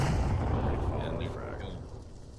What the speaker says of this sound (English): And here comes the follow-up frag.